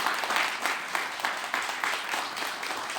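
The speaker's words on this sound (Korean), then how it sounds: "박수로 한번 감사해 주시면" Audience applause follows a talk on North Korea, a steady wash of many hands clapping at moderate volume with slight surges, continuing without a break and with no voices over it.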